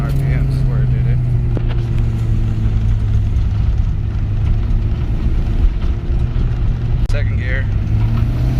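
An engine with two broken valve guides, known to cut out around 6,000 RPM, runs at high revs: a loud, close, sustained drone that wavers slightly, with no clear break in sound.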